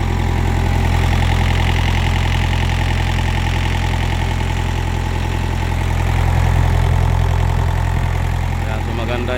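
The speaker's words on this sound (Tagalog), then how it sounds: "So, pangalawang andar na ito mga kaibi mula sa pag-overhaul." A BOMAG RTK 455 roller's engine, just overhauled after a hard-starting problem, runs steadily outdoors with a constant low drone and mid-frequency clatter, loud and continuous throughout.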